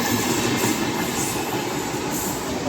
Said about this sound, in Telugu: ఒకదాని తర్వాత ఒకటి కాకుండా 3-2 ఒకటేసారి పోతూనే ఉంటాయి లోకల్ ట్రైన్స్ అయితే